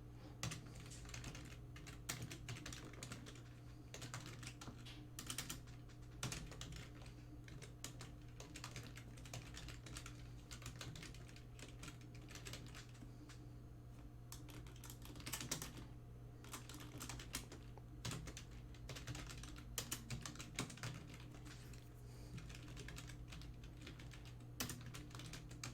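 Soft, steady clicking of typing on a computer keyboard runs throughout, faint and irregular, with occasional louder keystrokes over a low background hum.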